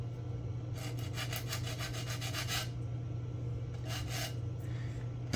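Plastic body parts of a 1/25 scale 1968 Shelby GT-500 model kit being sanded by hand, with bursts of close, rhythmic scratchy strokes. The strokes come in two runs with a pause between them, over a steady low hum.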